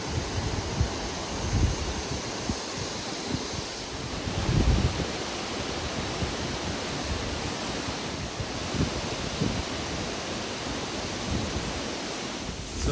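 A river at Sinulom Falls in Mindanao rushes steadily, a dense, even wash of flowing water with occasional louder surges and some wind buffeting the microphone.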